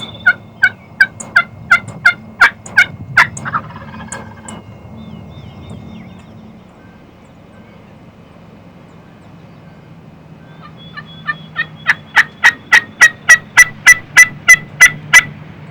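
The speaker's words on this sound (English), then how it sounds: "Once these gobblers commit and start coming in, Harold will soften his yelps" Wild turkey gobblers gobble in two loud rapid bursts, the first fading out after about four seconds, then a quieter gap before a second run of repeated gobbles builds near the end, heard over a low steady outdoor rumble during a spring hunt.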